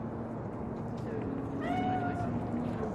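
A cat meows in the Cyberpunk 2077 video game, a couple of drawn-out, rising and falling mews over a steady low game ambience, with voices talking around it.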